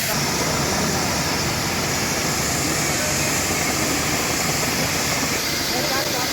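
A pug machine's oxy-LPG torch cuts through 40mm mild steel plate, producing a constant loud roaring hiss of flame and gas that stays steady throughout.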